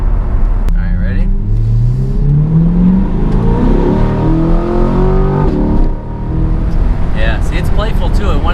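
A 495 hp Chevy Corvette C8 accelerating hard, its engine note climbing steadily through the gears with a loud, close rumble from inside the car while people talk over it.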